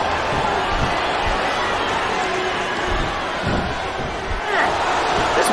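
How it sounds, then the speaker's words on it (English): Arena crowd noise from the SmackDown vs. Raw 2007 wrestling video game on Xbox 360, a steady loud roar of fans filling the whole stretch with swelling cheers and impacts, while commentators talk over it. "I think these superstars are getting some feedback from the crowd, JR."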